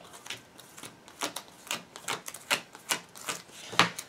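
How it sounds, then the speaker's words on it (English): Cards drawn one after another from a shared community deck during a Fairytale Games Battle Royale tabletop card game: a quick run of crisp, papery snaps and clicks, close and fairly quiet, with no talking. "the first thing that we do with the community deck is we each draw 5 cards"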